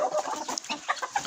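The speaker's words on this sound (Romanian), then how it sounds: "Uitați ce frumoasă este găina aceasta." A flock of hens on a small farm cluck in quick, overlapping bursts at close range, with busy scattered calls from several birds at once.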